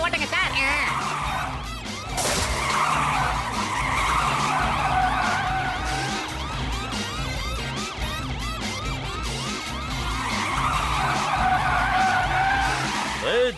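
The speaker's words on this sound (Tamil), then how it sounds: "சீக்கிரமா வண்டியை ஓட்டுங்க சார்." A cartoon vehicle races along fast in a Motu Patlu treasure-hunt chase, with continuous loud tire skidding and squealing, engine roar and siren-like wailing layered as dense animated sound effects.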